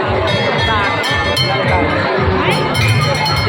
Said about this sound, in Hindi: अहाँ सब देख रहल छियै कतेक भीड़ छै